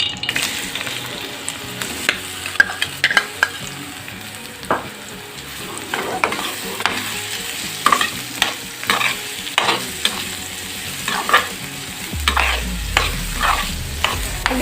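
Banana pieces frying in hot ghee in a pan, a continuous crackling sizzle punctuated by regular sharp spatula taps and scrapes against the pan, close and fairly loud.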